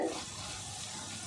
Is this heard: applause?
no